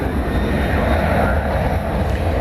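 A Boeing 737-800 airliner bound for Boise takes off at night from DFW Airport, its engines a steady, broad roar rolling at moderate distance without letup.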